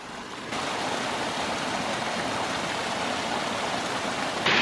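Water pours steadily onto a micro hydro intake screen box, a constant rushing splash that steps up a little louder after a brief quieter start and holds even throughout.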